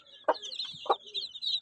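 Close, clear hen clucks come in two short bursts, with continuous high peeping from chicks running underneath on a backyard poultry setting.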